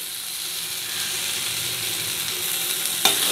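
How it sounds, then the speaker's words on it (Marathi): Gram dal stirred into a sizzling tempering in a pan, a dense steady hiss of hot oil with a faint scraping rhythm and one sharp clink near the end. "आता डाळ छान फोडणीत मिक्स झाली की आपल्याला साधारण तीन ते चार मिनिट याला वाफ काढून घ्यायची आहे"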